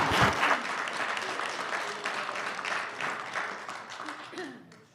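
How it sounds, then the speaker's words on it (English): A room of attendees at a Norristown municipal council meeting claps together, a loud burst of many hands that tapers off toward the end, with a few faint voices mixed in. "Oh, clap, clap."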